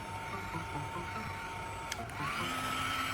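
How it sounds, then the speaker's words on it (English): A heat gun blows steadily on the end of a PVC pipe, a constant whirring fan hiss close by, with a brief click and a slight shift in tone near the end. "I'll heat one end with a heat gun to make it soft and pliable."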